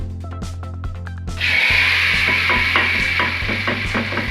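Hot bhagaar tempering is poured into dal, and a sudden loud sizzle bursts in after a few light clinks and stirs, then settles into a steady crackling hiss.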